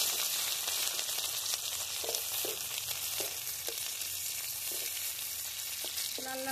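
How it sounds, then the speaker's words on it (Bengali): Chopped onion, bay leaves and garlic fry in hot oil with a constant hissing sizzle, marked by occasional soft scrapes of stirring, close and fairly quiet with nobody talking. "তেল গরম হয়ে গেছে, এখন পেঁয়াজ কুচি দিয়ে দিচ্ছি।"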